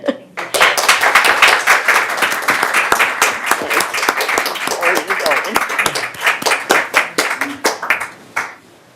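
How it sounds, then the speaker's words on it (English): A room full of people applauds an honored employee named Whitney at a GRF meeting, with dense, sustained clapping from many hands continuing loudly for several seconds before tapering off. "We're all going to stand up and do another round of applause"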